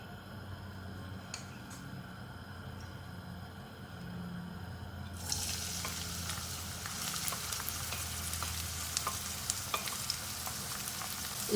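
Three medium chopped onions hit hot oil in a pan, and a quiet background suddenly becomes a bright, steady sizzle with small spits and stirring scrapes, close and continuous, without talk.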